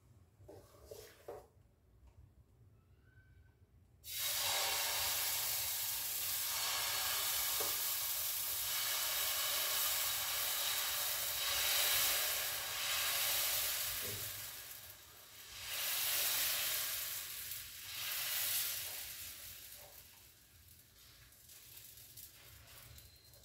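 Oats dosa batter spread on a hot pan over a medium stove sizzles loudly and steadily for a long stretch after a brief quiet start, rising and easing slightly, with no talking.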